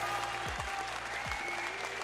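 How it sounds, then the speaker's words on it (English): A virtual crowd applauding in the video game Star Citizen, a quiet, even patter of clapping over a low game hum, broken by a few short falling tones. "The crowd goes wild."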